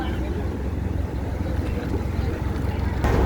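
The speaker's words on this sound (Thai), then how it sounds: "เรือกำลังจะออกแล้วนะครับ" A boat engine churns steadily with a low rumbling drone as the boat prepares to pull away from a pier, loud and continuous with a brief rise at the end.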